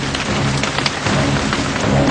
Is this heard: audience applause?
no